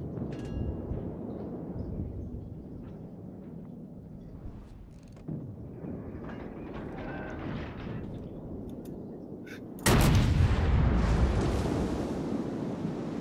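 Naval guns of the battleship HMS Nelson firing in World of Warships, a sudden massive broadband boom late in the sequence that rolls off slowly, after quieter ambient rumble and faint in-game chatter.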